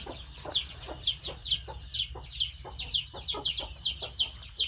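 Chickens cluck repeatedly in a steady, overlapping rhythm at a Thai home farm with newly bought birds, with a low background hum beneath and no talking.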